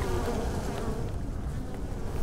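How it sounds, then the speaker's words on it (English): A swarm of bees drones in the video game Unexplored, a dense, continuous buzzing that holds steady and loud for the whole stretch with no talk over it. "Oh, not the bees."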